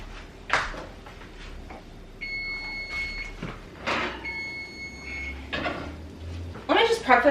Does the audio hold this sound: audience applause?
no